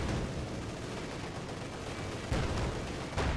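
Dense machine gun fire and scattered battle noise from a World War II strategy game, Company of Heroes 2, rolling on continuously at moderate distance with a couple of heavier bursts near the end, no voices.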